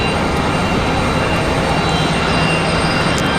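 A United airliner in Star Alliance livery arriving at Raleigh-Durham airport on a windy day, a loud continuous broadband engine roar with wind rumble, steady throughout and without speech.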